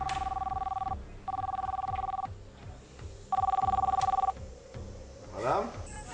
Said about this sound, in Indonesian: Malam itu 9 September 2007, Tejo dikejutkan oleh sebuah telepon